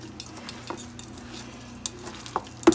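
Meatloaf mixture with garlic powder, salt and pepper worked by hand, a soft, steady squishing and mixing texture with a few sharper clicks near the end, close and fairly quiet with no voice.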